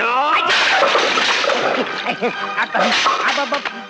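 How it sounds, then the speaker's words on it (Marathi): A clay pot full of water smashing in a comedic Marathi film scene, a loud burst of crash and splashing water mixed with overlapping voices and shouting throughout. "पाण्यासकट मडकं फोडलं"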